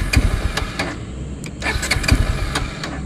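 A Bajaj Pulsar N250 motorcycle with an empty fuel tank cranks on its electric self-starter without firing, a near, mechanical whirring with repeated sharp clicks and ticks across three seconds.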